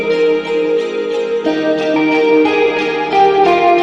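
Several sampled guitars layer in an indie rock beat, rhythmic strums under a plucked backing melody, shifting chords midway in a steady, full-sounding loop.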